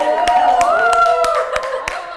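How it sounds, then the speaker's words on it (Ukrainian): An audience at a comedy dating show claps in a steady, rhythmic beat, sharp evenly spaced hand claps over a sustained tonal sound and voices. "аплодуємо."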